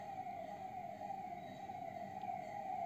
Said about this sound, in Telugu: సారీ అండి కొంచెం డిస్టర్బెన్స్ అయితే ఉంది, పోలీస్ వ్యాన్ ఇప్పుడు లాక్డౌన్ కదా.